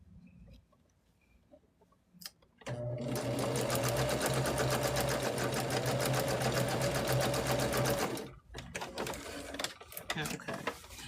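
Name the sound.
sewing machine sewing fabric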